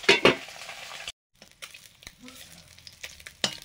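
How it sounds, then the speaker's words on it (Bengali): Fish fry in a pan with oil, giving short bursts of sizzling and spattering along with a brief pause and the faint clink of a utensil. "প্রথমবারে মাছগুলো ভাজা হয়ে গেছে, তুলে নিলাম।"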